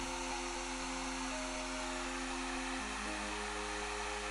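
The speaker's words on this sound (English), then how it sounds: "Use a hairdryer or a heat gun to semi-dry the glue." A hair dryer or heat gun blows steadily and loudly at close range, drying a layer of barge cement glue on a cosplay crown piece, its motor hum shifting slightly in pitch partway through.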